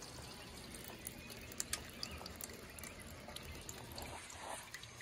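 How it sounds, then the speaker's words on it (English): Rainwater spilling from a completely clogged house gutter makes a faint, continuous splashing trickle, with scattered drips and small splats over a hiss of rain. "Water backfalling into the house."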